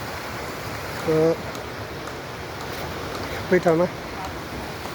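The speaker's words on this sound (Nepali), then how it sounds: "यो पानी चाहिँ फेरि तल यसरी बगेर" Stream water diverted from a brook and running downhill makes a steady, even rushing wash, joined by a few brief spoken words.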